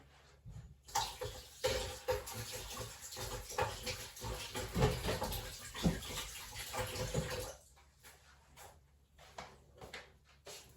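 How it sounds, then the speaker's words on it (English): Hands washed with soap under a running kitchen tap, a loud close gush of water with splashing and rubbing for several seconds before the flow stops and quieter handling follows. "just had to get a bit of soap on my hands"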